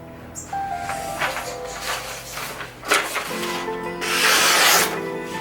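A Fallkniven A1x knife edge is drawn across a DC3 sharpening stone, giving close, dry rasping strokes in an uneven rhythm, with one longer, louder pass near the end.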